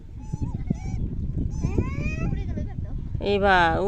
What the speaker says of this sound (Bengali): ওই যে হাঁস পাখি